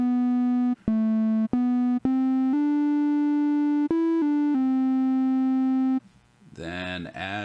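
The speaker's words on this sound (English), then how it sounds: "So if I switch this over to triangular, which is as close to a sine wave" Minimoog synthesizer set to a triangle waveform, playing a smooth, pure, hum-like tone as a sequence of sustained notes with brief gaps and pitch shifts, loud and clear, ending in a shift to a buzzier, warbling sound.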